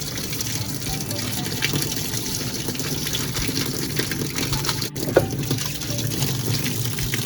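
Water gushes steadily into a washing machine tub for a cleaning cycle, a continuous rushing fill heard close and at even volume throughout.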